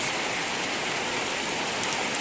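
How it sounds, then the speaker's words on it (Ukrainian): Heavy downpour at a fishing spot by a pond, a dense, loud and unbroken roar of rain hitting nearby surfaces, close and steady with no distinct thunderclap and no voices. "Злива у нас посилюється, гром гримить"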